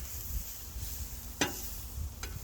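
Onions fry in a pan with a soft, steady sizzle, broken by a sharp scrape or clatter and a second lighter knock as they are moved around.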